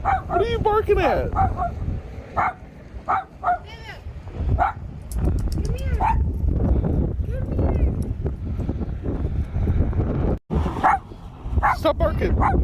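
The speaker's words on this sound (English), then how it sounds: "What are you barking at?" A dog barks repeatedly in short yipping bursts outdoors, close and loud, amid wind noise and background commotion, with scattered barks across about twelve seconds.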